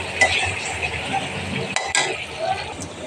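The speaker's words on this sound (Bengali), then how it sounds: "আচারগুলো ঢেলে দুই বাটিতে নিয়ে নিলাম" Homemade pickle poured from a cooking pot into two bowls in a home kitchen, with soft scraping and clinks of a spoon against metal, a couple of sharper knocks partway through, over a faint background sizzle.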